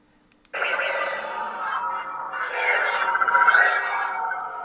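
A budget LGT Nexus RGB lightsaber emits a loud, clear electronic hum that starts abruptly and then wavers and swells as the blade is moved, heard close up with no talk.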